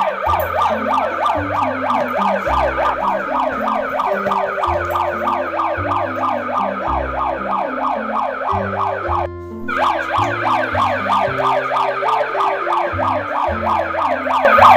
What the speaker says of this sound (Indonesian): Dengar enggak sirene berbunyi?